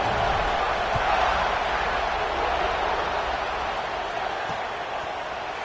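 A large college football stadium crowd roars steadily before kickoff at an Arkansas at Georgia game, a broad wash of cheering that fades slightly toward the end.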